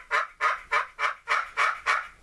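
A hunter's turkey call imitating a cutting hen turkey: seven rapid, loud, sharp yelping notes in an even rhythm, close and alone.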